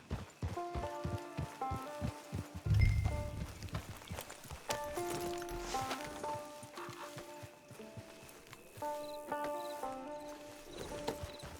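A horse's hooves clip-clop in the video game Red Dead Redemption 2 Online, with an irregular run of walking hoofbeats, a brief louder thump, and background music tones layered over the steps.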